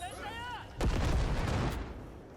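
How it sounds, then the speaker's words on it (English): A grenade blast in the video game Cyberpunk, played on Xbox Series S: a sudden heavy boom with a rumbling low tail after a brief electronic whine, loud and close, fading over about a second and a half. "we're gonna throw a grenade here because we got so many people there"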